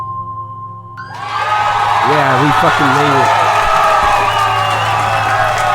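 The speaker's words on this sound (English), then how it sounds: "give a round of applause, guys" A small group bursts into loud cheering and whooping with clapping, rising suddenly after a quiet moment and staying strong to the end, while someone shouts excitedly over it.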